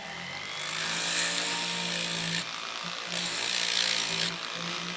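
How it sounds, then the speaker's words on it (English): A rotary burr grinds the edges of a hydraulic-press-formed titanium piece, a high whining buzz in two sustained passes of about two seconds each with a short pause between, close and steady. "all I'm going to do now is simply use a burr"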